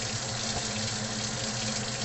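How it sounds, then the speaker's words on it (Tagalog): Water runs steadily from a tap while chickpeas are washed, a constant close rushing flow with no pauses or voices. "Hugas ng chickpeas, tapos ilagay natin siya dito."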